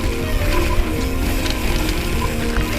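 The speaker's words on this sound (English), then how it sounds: "You can just hear bikes all through these woods." Busy mechanical clicking and whirring of many bicycle freewheels and gears riding through woods fills the air, steady and close, with a constant rushing background.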